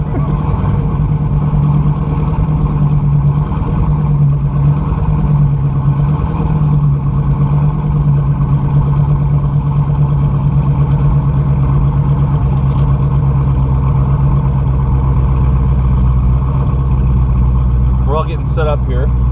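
A Dodge Challenger Hellcat with a 6-speed manual idles loudly nearby, a deep steady engine rumble holding throughout, with a voice briefly audible near the end.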